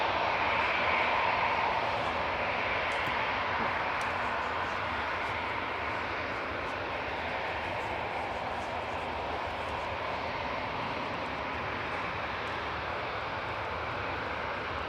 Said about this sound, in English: departing in front of us just then was Ryanair 3216 over to Milan